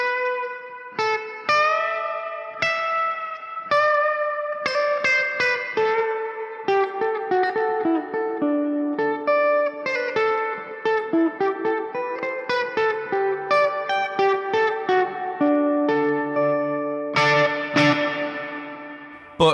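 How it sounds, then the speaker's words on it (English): An electric guitar runs through an Orange Super Crush amp with a hall-style reverb, plucked single notes and chords ringing out with a spacious tail, played alone without talk. "It's more of a hall style reverb."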